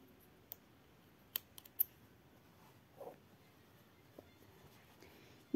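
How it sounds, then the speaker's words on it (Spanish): Scissors snip crochet yarn on an amigurumi cow project, a few soft isolated clicks and snips spread out over a quiet background. "cortamos la hebra."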